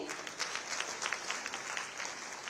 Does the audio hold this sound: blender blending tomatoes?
no